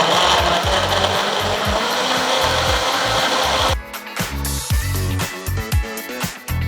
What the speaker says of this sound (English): And blend away.